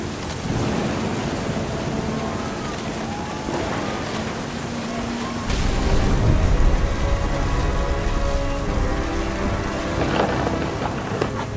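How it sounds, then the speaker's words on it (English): A thunderstorm with rain in the What Remains of Edith Finch video game: a dense, steady downpour hisses continuously, swelling louder and rougher midway, with low rumbling beneath. "The thunder sounded much too close and full of angry power"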